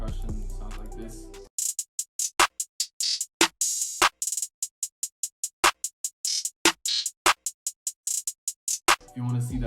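An FL Studio beat's drum and percussion pattern plays on its own after a brief opening sound, with crisp, evenly spaced hits pulsing in a steady, rapid rhythm.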